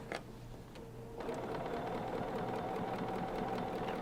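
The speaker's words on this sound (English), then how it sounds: "it's stitching the binding just about 1/8 of an inch from the edge of the binding" Sewing machine stitching quilt binding about 1/8 inch from the edge on a heart table runner, a steady fast mechanical whir that starts softly then runs louder and continuous throughout, with no talking.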